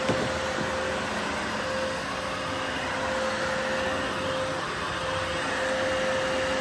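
A Eureka Dash Spring vacuum cleaner runs steadily on carpet with a constant whirring drone and a faint high hum, no speech.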